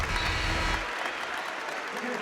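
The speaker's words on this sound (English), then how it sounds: "applauding as Duke got back up to her feet" Fans at a BGSU versus Florida women's WNIT basketball game clap as an injured player gets back up, a brief burst of arena applause that fades quickly under a commentator's voice.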